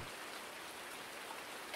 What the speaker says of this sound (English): It's been raining so far this morning.